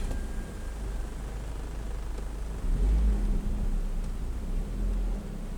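Nissan Primera pulling out of a shaded parking spot under trees toward an entrance gate, a low steady engine rumble with a heavier surge midway, close and continuous with no talking.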